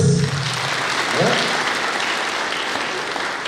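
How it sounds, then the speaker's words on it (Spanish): An audience at a school teachers' training session applauds steadily for several seconds, a short voice audible at the very start. "Muy bien, aplausos para todos ustedes."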